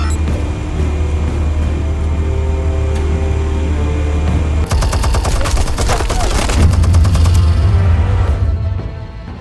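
Dense gunfire and blasts from a combat scene in Batman: The Telltale Series, with rapid rattling bursts building to a loud volley midway, over a steady low rumble throughout.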